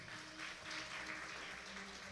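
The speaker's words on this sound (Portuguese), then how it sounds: "Dá uma salva de palmas para Jesus." A church congregation at a family worship service claps together in steady, even applause, fairly soft and diffuse as if heard from across the room.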